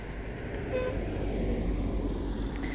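Traffic on a road on a cold October morning, a steady broad rumble of a car passing close by with continuous road noise throughout.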